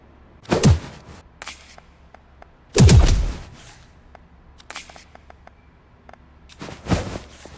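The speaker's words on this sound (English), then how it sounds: "And gunshots sound exaggerated, yet realistic enough." Three sharp, punchy gunshots ring out a couple of seconds apart, each with a booming low tail, amid lighter clicks and thuds from action in the game Fights in Tight Spaces.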